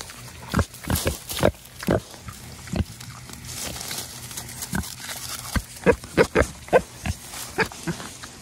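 Pigs on a mountainside farm grunting close by at a feed bucket in a quick series of short, rough grunts, sparse at first and then bunching together near the end.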